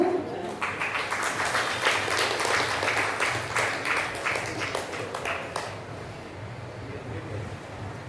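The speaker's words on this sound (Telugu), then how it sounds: "ఒకసారి గట్టిగా క్లాప్స్ ఇద్దాము" An audience at a Sri Krishna Geetha Samajamu program breaks into a burst of hand clapping, dense and fairly loud for about five seconds, then thinning out and fading into room noise.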